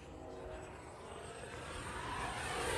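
An E-flite F-16 Falcon 80mm electric ducted-fan RC jet on a Smart Pack Gen 2 power setup makes a continuous loud roaring whoosh in flight that builds steadily louder as it climbs vertically, with no one talking.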